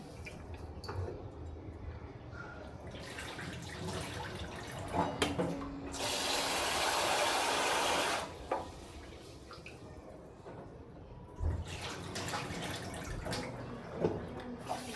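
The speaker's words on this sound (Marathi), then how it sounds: "तांदूळ पण एकदा चांगल्या पाण्यात धुवून घेते." Water splashes and trickles in short bursts as rice is rinsed, with a louder two-second run of pouring water midway. Faint drips and quiet movements fill the gaps.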